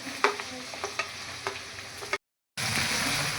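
Chopped dried onion hits hot oil in a pan with a loud, steady sizzle and frying hiss, punctuated by several sharp clinks of stirring; a brief dropout interrupts before the frying resumes.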